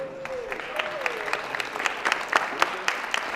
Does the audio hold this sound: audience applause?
yes